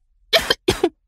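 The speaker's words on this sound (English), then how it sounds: "I have a cough." Two sharp coughs close to the mic, a brief pause between them, each with a rough double burst and no other sound around them.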